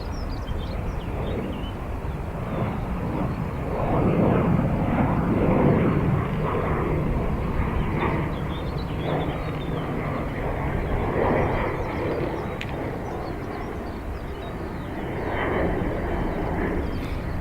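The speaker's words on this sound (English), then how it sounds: "Our next arrival will be an A330 Aer Lingus coming in from Edinburgh" An Aer Lingus Airbus A330 arrives at Dublin Airport, a steady broad jet roar swelling and easing at moderate distance with no talking over it.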